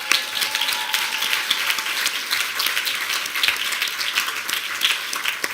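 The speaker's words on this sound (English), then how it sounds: "So please give a round of applause to yourself." A sustained round of applause from an awards-ceremony audience, dense steady clapping filling the room without pause, moderately loud and with no speech over it.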